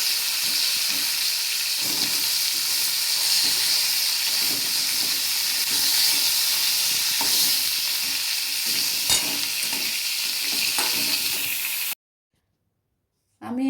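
Pointed gourd (potol) frying in oil in a pan as its water cooks off, giving a loud, steady sizzle and hiss with occasional stirring clicks, cutting to silence near the end.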